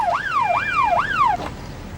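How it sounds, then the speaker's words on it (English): A wailing ambulance siren sweeps up and down in steady cycles, loud and close, then cuts off abruptly near the end. "can you confirm that the ambulance... Hold on, I can hear it."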